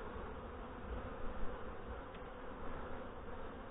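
Honey bees buzzing at an open hive during a late-September inspection, a dense, continuous hum of many bees close by with slight rises and falls in loudness.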